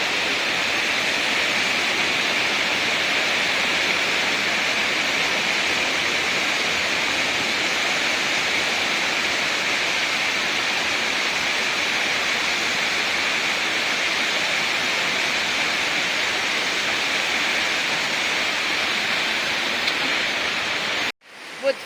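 The Dzykhra waterfall pours down a gorge in a steady, dense hiss of falling water that holds unbroken and loud before cutting off abruptly at the end.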